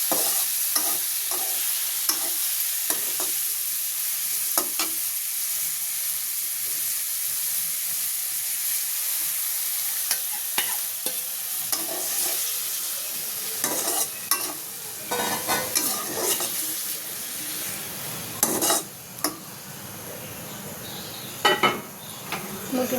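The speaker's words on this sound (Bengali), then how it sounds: "তো আমি কড়াইয়ে এখন মুরগির মাংস দিয়ে নিয়েছি" Chicken pieces stirred and fried in a hot wok after potatoes and pointed gourd were fried, a continuous loud sizzle and hiss with scraping spatula strokes and occasional clinks of metal on the pan.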